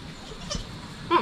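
Goat on a provincial farm where several does have just given birth, a single short bleat rising near the end of a brief, quiet stretch of farmyard ambience.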